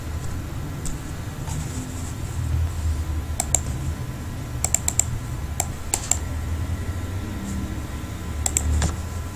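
Computer keyboard typed on while coding a Django e-commerce web application: scattered, soft key clicks, some in quick bursts, over a steady low background hum.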